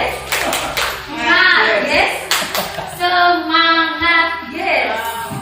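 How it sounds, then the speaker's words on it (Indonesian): Patterned clapping for the 'tepuk semangat' chant in a classroom, several crisp bursts of claps alternating with children's chanting voices in a steady call-and-response rhythm. "Tepuk semangat lagi"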